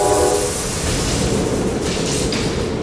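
Toy factory machine in the Poppy Playtime horror game powering on, a loud rumbling mechanical roar with a brief tonal hum at the start, continuing steadily with clanking overtones.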